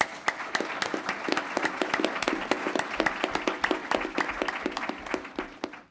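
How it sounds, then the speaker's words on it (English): Applause from the audience at a congressional district debate, with many distinct claps forming a steady, moderately loud patter that fades out at the very end. "So let's give them a round of applause."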